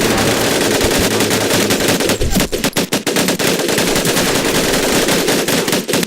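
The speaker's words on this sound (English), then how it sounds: "Take your time to aim and fire the weapon in short bursts only." An automatic weapon in the Medal of Honor: Pacific Assault video game fires in loud, rapid bursts, with brief gaps between volleys and a dense, continuous rattle filling most of the stretch.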